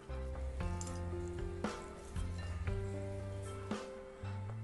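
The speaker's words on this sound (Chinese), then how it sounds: "把煎豆腐的油倒入锅里，再把葱姜蒜片也加进来，翻炒出香味" Scallion, ginger and garlic slices hit hot oil left from frying tofu in a clay pot, giving a soft steady sizzle with light stirring scrapes, quiet and close, partly under background music.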